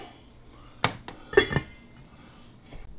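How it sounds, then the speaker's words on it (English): A lid goes back onto a boiling cooking pot with a few sharp metallic clanks and clinks near the middle, then a brief rattle, against a quiet background. "Now what we do, we just put the lid back on it and let it continue to boil."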